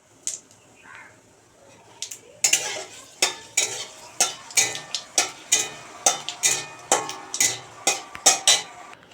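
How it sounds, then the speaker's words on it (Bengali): A spoon stirs food in a wok with repeated, regular scraping strokes over a background sizzle, each stroke loud and close, after a quieter opening moment. "কড়াইটা, এবার একটু নেড়ে নিচ্ছি।"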